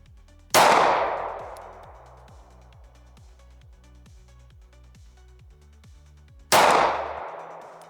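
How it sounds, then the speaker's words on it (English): A Beretta M1934 pistol fired twice, two sharp loud reports about six seconds apart, each trailing off in a long echoing decay, with faint mechanical clicking in between. "Let's get a slow, deliberate trigger pull here and see how it does."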